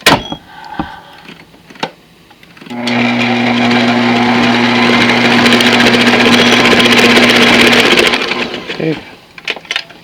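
A stand mixer fitted with a scraper paddle attachment beats cake batter in a loud, steady motor whir with a strong hum lasting several seconds, preceded and followed by brief talking and clinks.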